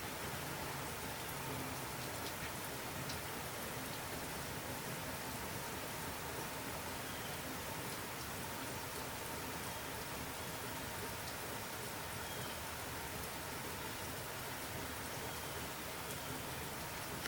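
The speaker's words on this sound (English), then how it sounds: "The rain is coming down." Steady rain falls outdoors in a foggy setting, a continuous, even hiss of drops on surfaces that stays loud and unbroken throughout, with no voices.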